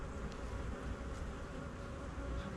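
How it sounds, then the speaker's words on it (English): Honeybees hum in a dense, steady drone as they are shaken into a hive during a Demaree swarm-control split, the buzzing faint and continuous with no voices. "shake some bees into this one."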